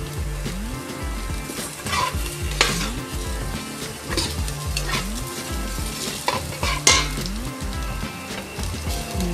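Vegetables, including chayote, sautéing in a pan for macaroni soup: a continuous close sizzle broken by repeated scraping stirs and clanks of the utensil against the pan.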